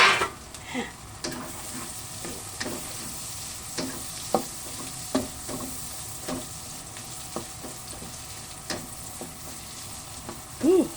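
White onion and garlic fry in a pan with a steady sizzle, broken by repeated clinks and scrapes of stirring throughout, with no talk.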